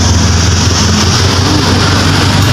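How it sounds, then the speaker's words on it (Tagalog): A 2021 Toyota 86 with a Subaru boxer engine idles close by, its exhaust giving a deep, steady low rumble that stays constant and loud, with no voices. "Grabe mga boss yung kanyang tambutso."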